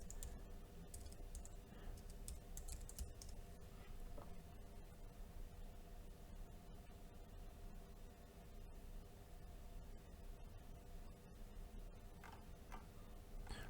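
Faint keystrokes on a computer keyboard, light irregular ticking and clicking over a steady low background hum, quiet and continuous.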